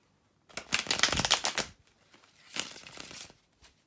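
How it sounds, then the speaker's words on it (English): Tarot cards are shuffled by hand in two close, crisp riffling bursts, the first longer and louder, the second shorter, with brief quiet between them. "bear with me a second, guys, to shuffle the tarot cards."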